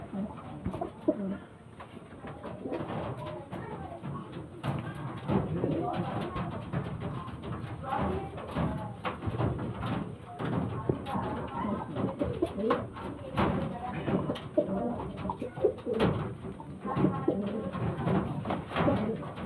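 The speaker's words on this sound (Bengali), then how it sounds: "পায়রা দুটোকে ছেড়ে শখ করাচ্ছি" Domestic loft pigeons of the dum breed coo repeatedly in soft, low, rolling calls close by, over a busy background with faint voices.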